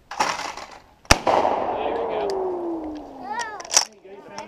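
A 20 gauge shotgun fires once at clay pigeons outdoors, a single sharp loud blast with a rolling echo, while people talk before and after.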